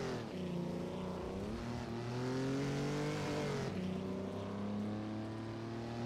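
Jaguar XK120 race cars roar wheel to wheel in the Assetto Corsa racing game, with several loud, close engines droning and revving together, their pitch rising and dipping with gear changes throughout.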